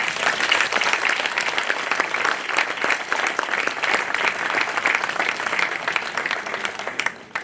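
An audience at a Sardinian poetry prize event in Posada applauds warmly, a dense, steady wash of clapping lasting several seconds before tapering off abruptly.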